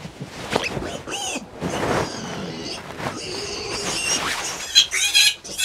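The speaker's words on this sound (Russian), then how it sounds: "визжишь, крикуны, как поросенок" Piglets under three weeks old in a newly built farm pig barn let out repeated high-pitched squeals in irregular bursts, close and fairly loud, while a person speaks intermittently.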